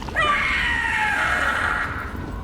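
The Gloomhowler monster in the video game Dragon Age: The Veilguard lets out a single long, harsh, wailing scream that rises sharply and then slowly fades, loud and alone over low ambient game sound.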